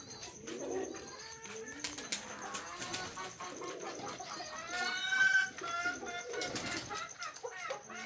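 Pigeons coo softly and repeatedly close by, with other bird calls and chicken clucks mixed in under a man's speech.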